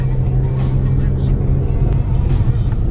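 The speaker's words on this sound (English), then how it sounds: "my car is literally not making it up this hill right now." A Toyota Corolla labours up a steep hill on a Saudi Arabian road trip, its engine a loud, close, continuous low drone that holds strained and unchanging throughout.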